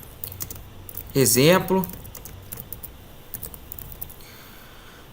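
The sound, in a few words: typing a robot's name on a computer keyboard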